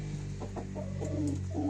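Australorp hens and roosters clucking close by, a run of short soft clucks and calls over a steady low background hum.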